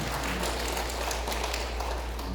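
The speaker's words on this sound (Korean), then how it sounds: "다시 한번 박수로 축하해 주시기 바랍니다." A church congregation clapping together after a prayer during Sunday worship, a dense continuous wash of applause at even volume for the whole short stretch.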